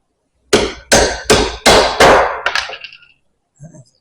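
Hammer strikes driving seals into a hydraulic bucket cylinder: five loud, evenly spaced metallic clangs, each ringing briefly, then a few lighter taps and a faint knock after a pause.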